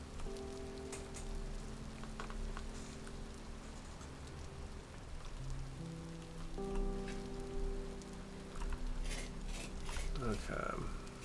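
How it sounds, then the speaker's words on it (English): Steady rain falls in the video game Vintage Story, a continuous broadband patter with droplet ticks, joined by croaking frogs and faint tonal game sounds under a quiet background. "I love the sound of rain in this game"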